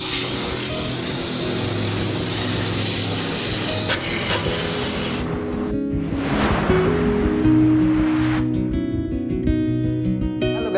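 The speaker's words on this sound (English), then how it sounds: "cleaning the outdoor unit using this jet wash is pretty simple and easy" A jet washer sprays water onto the outdoor unit of an LG 4-star 1.5 ton inverter air conditioner, giving a loud, close, continuous hissing rush with shifting spray noise and no talk.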